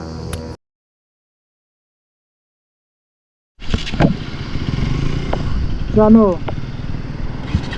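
After a short silence, a 2026 KTM Duke 200 or Bajaj Pulsar NS200 motorcycle engine starts and runs with a close, steady idling rumble before a drag race, while someone talks over it.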